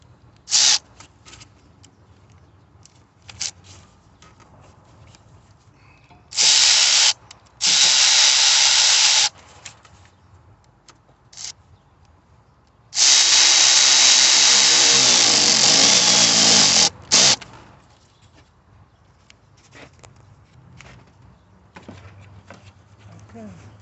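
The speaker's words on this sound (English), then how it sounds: "Now we're tightening in the clamp with that 7 socket." A socket wrench with a 7 socket tightens a hose clamp during serpentine belt replacement on a 2015 Chevy Cruze LT, heard as several loud bursts of rapid mechanical ratcheting over quiet background, the longest lasting a few seconds.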